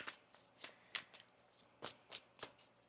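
Quiet, close tarot card shuffling: a series of short riffling bursts with brief pauses between them, soft and crisp.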